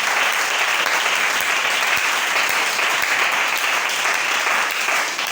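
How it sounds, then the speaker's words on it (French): A French-speaking church congregation applauds during a service, a loud, dense and steady wash of many hands clapping together that continues throughout without a break. "On acclame le Seigneur."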